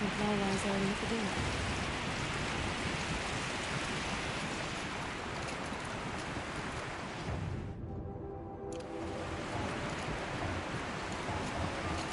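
Heavy steady rain falls in Horizon Zero Dawn, a dense continuous hiss filling the whole stretch, briefly thinning near the end before resuming, with a faint voice at the start.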